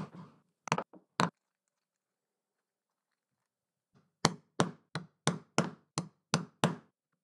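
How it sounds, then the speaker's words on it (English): A chisel tapped on wood to mark out the outline of a nut for a custom knob: three sharp taps, a pause, then a steady run of about eight crisp knocks, close and alone in a quiet room. "I can use my chisel to mark out the perimeter of that nut."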